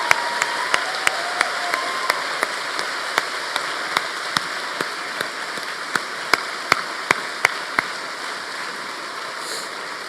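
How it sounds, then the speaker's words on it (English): Steady, even clapping from a crowd at a graduation ceremony, with a few sharper individual claps standing out at irregular moments across the whole stretch. "can we have one last massive round of applause for everybody"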